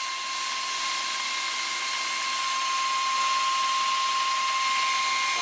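A metal lathe taking a smooth, consistent finishing pass, heard as a steady, loud, unbroken whine with a thin high tone held evenly throughout.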